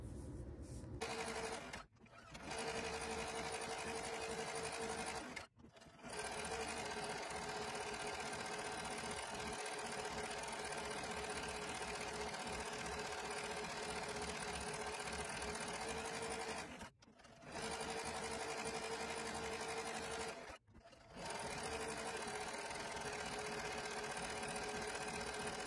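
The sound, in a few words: sewing machine sewing and embroidering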